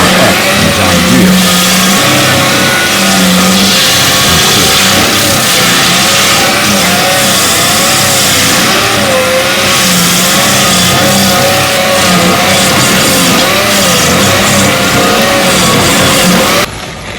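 A 300-horsepower John Deere Hurricane TRX logging machine roars loudly and continuously at close range, its engine note rising and falling under heavy working load throughout.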